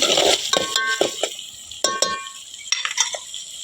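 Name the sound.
onions being fried and stirred in a pan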